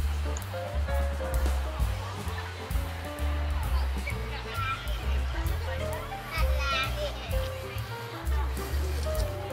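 Children play and chatter outdoors on an evening among lit-up cherry blossoms at Tokyo Midtown in Roppongi, their voices a steady, busy murmur of calls and laughter spread across the scene.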